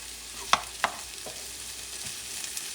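Garlic frying in a pan at low heat, a soft background sizzle punctuated by a few sharp clicks and taps of a utensil against the pan, close and without talk.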